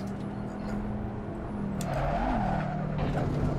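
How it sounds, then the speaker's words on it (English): An Assetto Corsa race car at the Nordschleife's Kottenborn section, its engine droning steadily as the tyres squeal and skid under hard braking, with the pitch swooping partway through. "if you brake a little too hard, the car just go whoop"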